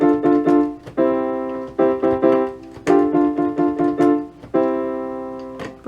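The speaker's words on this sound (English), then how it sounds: "I can hear my piano." A virtual piano triggered from an M-Audio Oxygen8 MIDI keyboard plays a few short chords and single notes in an irregular rhythm, clear and close with decaying tones between strikes, no voice.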